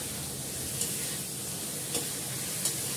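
Mustard masala stir-fried in oil, a continuous close sizzle with a few sharp scrape or tap accents from the spoon, steady and fairly loud throughout, no talking.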